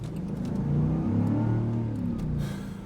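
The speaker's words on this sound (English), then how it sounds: "Land Rover comes along and they bless us with a 5-liter supercharged V8 Defender" A supercharged 5-liter V8 in a Land Rover Defender 90 revs up into a deep, throaty rise, holds briefly and then falls away, close and loud with no talking.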